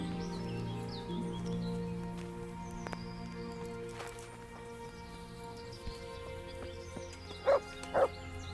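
A dog barks in the medieval video game Kingdom Come: Deliverance, two short, sharp barks near the end over a sustained musical score and ambient bird calls.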